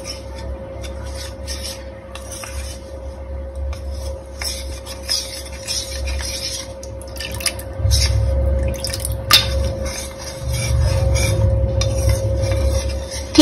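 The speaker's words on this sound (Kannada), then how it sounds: "ಕ್ಲೀನ್ ಆಗಿ ಗಂಟು ಬರ್ದಿರೋ ರೀತಿ ತಣ್ಣೀರ್ ಹಾಕೊಂಡು ಚೆನ್ನಾಗಿ ಮಿಕ್ಸ್ ಮಾಡ್ಕೊಂಡಿದೀನಿ" Custard powder is stirred with cold water in a bowl: continuous scraping, rubbing strokes with small wet clicks and drips, close up and fairly loud, with no voice.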